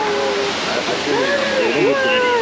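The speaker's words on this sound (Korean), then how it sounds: "와 어마어마해 폭포가." A huge waterfall in Singapore rushes as a steady, loud, broadband roar that fills the whole stretch, with excited voices and whoops over it.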